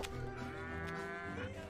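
Cows in the video game Rock of Ages 3 give a long, low, drawn-out moo, steady and fairly quiet against a busy game background.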